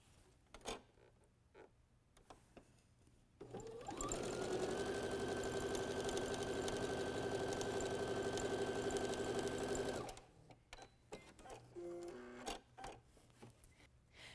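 A sewing machine stitches fabric strips together for a lightweight quilt, running as a steady, fast mechanical whir for about six seconds, with quieter handling noises before and after.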